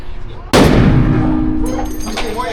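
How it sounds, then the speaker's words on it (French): A single sharp, loud Glock pistol shot at a shooting range, with its boom ringing on behind it and faint sounds following. "Donc on va tirer."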